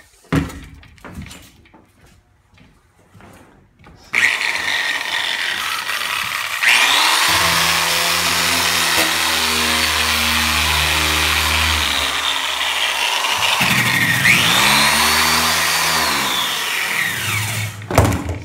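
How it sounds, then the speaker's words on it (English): An angle grinder spins up and runs steadily against a steel floor during surface prep, a loud sustained whine with harmonic tones that dips briefly, then resumes before spinning down near the end. "the trick to using any kind of grinder like that is to observe which way the wheel's spinning"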